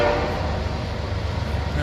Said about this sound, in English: Man, that's real nice. A stupid train.